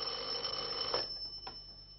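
An old telephone bell rings indoors in a quiet domestic scene from a French film. The ring is faint and electric, trailing off into silence.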